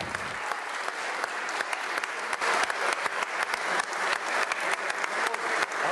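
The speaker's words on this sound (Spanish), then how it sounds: "Con este sonoro y cerrado aplauso, los cerca de 100 congresistas reconocieron el trabajo del presidente del Congreso" Loud, dense applause from around 100 congress members in the Colombian Congress honoring the congress president, steady and sustained throughout with no voices.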